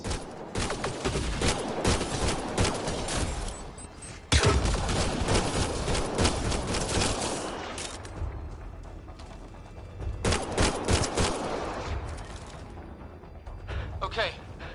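Video game gunfire, a sustained loud barrage of rapid shots and explosive bursts across the whole stretch, with voices calling out beneath the shooting.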